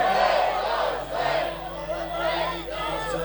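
A large crowd of Shia and Sunni mourners at a Muharram gathering chants a religious slogan in unison, loud, massed voices rising and falling in repeated waves.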